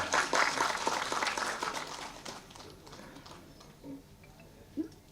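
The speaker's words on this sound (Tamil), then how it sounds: "நல்லா கைதட்டுங்களா ஒரு தடவை." Applause breaks out from the audience at a film press meet, a brisk burst of clapping that fades after about three seconds into a quieter room with a few faint sounds.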